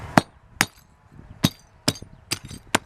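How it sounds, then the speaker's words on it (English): A small tack hammer strikes a wrapped doll head six times in a loose, uneven rhythm, each blow a sharp, close knock in an otherwise quiet room. "You got your little tack hammer, just any hammer will do."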